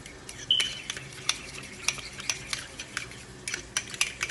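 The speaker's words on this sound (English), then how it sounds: "you want to stir this until you get all of the lumps out" A fork scrapes and taps briskly against a bowl, stirring a lumpy thickener for an oxtail pasta sauce, with quick irregular clinks repeating close by and no talking.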